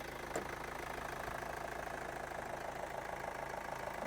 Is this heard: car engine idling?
yes